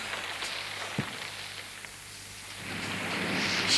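Monsoon rain in a stage play, a soft steady hiss of falling rain that swells louder toward the end, with a few faint drop-like taps, no voices.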